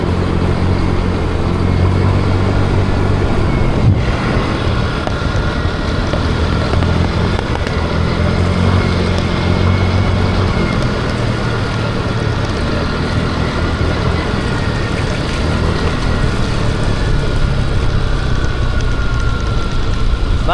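A new motorcycle engine idles steadily throughout, a constant low mechanical drone with a faint knock near the start and no speech.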